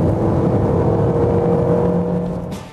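A 2009–2010 Toyota Matrix accelerates at highway speed, from about 55 to 70 mph. The engine drone and road noise are loud and steady, then ease off at the end.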